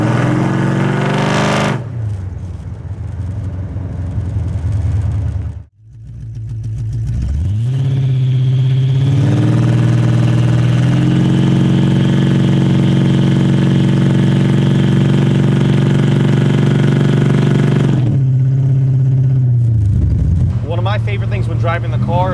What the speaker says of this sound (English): That engine makes music of its own. It's an absolutely amazing sound. The supercharger sings.